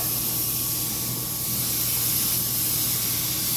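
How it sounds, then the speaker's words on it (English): An Iwata HP-CS Eclipse airbrush sprays paint at about 20 PSI: a steady, close hiss of air and paint that holds without a break, with a faint hum under it and no talk. "I'm using an HPCS Eclipse. It's an Iwata airbrush, and I'm at about 20 PSI."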